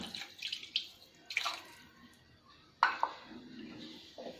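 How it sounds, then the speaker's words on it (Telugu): Water splashes and trickles into a pot in a few uneven pours of about one and a half glasses, close and fairly quiet, with faint clinks of cookware, while cooking egg curry. "కొంచెం వాటర్ కూడా ఇందులో వేసుకుందాం."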